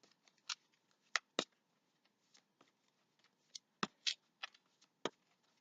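Angel tarot cards are shuffled and drawn, giving sparse, quiet snaps and flicks that come in irregular bursts against near silence.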